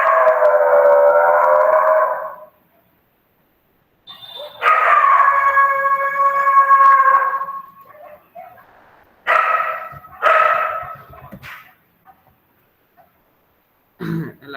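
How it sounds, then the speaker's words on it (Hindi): A dog barks in separate drawn-out, howling bursts with gaps of silence between them, loud and close in a quiet indoor room. "किसके ऊपर भौंक रहा है?"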